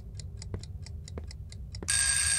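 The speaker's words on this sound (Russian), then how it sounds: "Что это тикает" A ticking timer clock in the video game Specimen Zero gives a steady run of sharp, evenly spaced ticks. Near the end, a loud, continuous ringing alarm suddenly bursts in over them.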